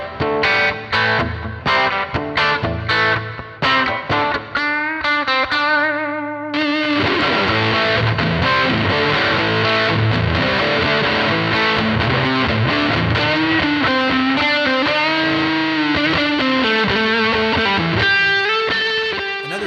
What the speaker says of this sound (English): this is a classic emulation of that vintage fuzz effect that we all know and love